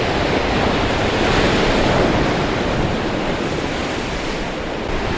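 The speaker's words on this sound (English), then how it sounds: "Let's walk out here and watch the waves crash into this rock." Ocean waves crashing against a rock on the Oregon coast, a loud continuous roar of surf and spray with wind buffeting the microphone, no talk.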